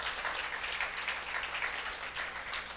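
A church congregation applauds in a large room, a dense, even wash of clapping that holds steady throughout.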